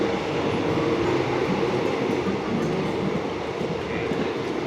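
Inside the restaurant car of a moving long-distance train in Thailand, a steady loud rumble of wheels and carriage fills the space, with faint rhythmic clacks beneath a constant dense roar.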